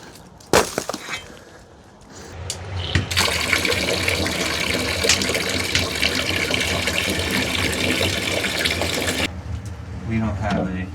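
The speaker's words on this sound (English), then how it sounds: "you get some hot water and a bucket shower" Hot water is poured from a bucket for a sauna shower on a frozen island, a sharp knock followed by several seconds of heavy, steady splashing close by, then quieter dripping.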